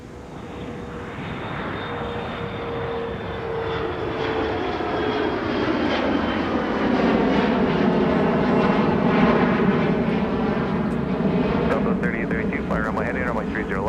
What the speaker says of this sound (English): here's a CRJ barreling down with 30 left